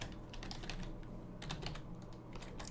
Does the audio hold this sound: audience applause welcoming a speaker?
no